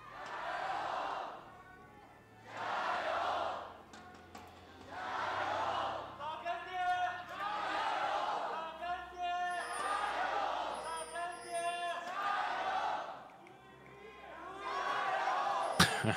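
Crowd at a League of Legends esports match in the LPL Spring 2023 season, Bilibili Gaming versus LGD, cheering and yelling in repeated surging bursts under continuous commentator talk.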